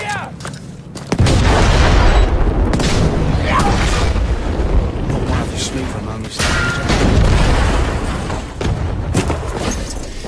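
Bombs going off in the multiplayer war game Battlefield V, with deep booming blasts and crackling debris under loud, continuous fighting while people talk over the chaos.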